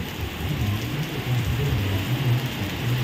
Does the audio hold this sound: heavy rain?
yes